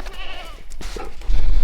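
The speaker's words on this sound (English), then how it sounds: "So the big news has to do with my beautiful goat here that Houston calls Spot." A goat bleats loudly and close by. Brief wavering calls come over farmyard noise, followed by a louder thump near the end.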